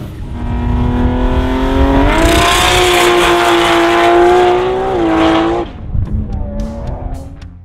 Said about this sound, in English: RPM's John Rieker was back piloting his 7-second Nissan RB-powered VL Turbo